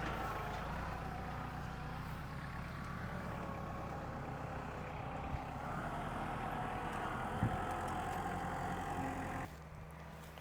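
A diesel tractor engine drones steadily while cutting hay in an open field, a low, continuous rumble heard from a moderate distance with wind noise, dropping off abruptly near the end.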